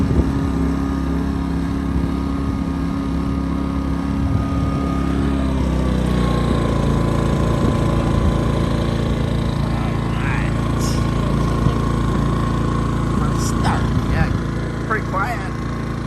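A Westinghouse iGen 2500 inverter generator runs with a steady, loud, buzzing engine drone that drops to a lower, smoother pitch partway through as it settles into eco mode, continuing evenly to the end.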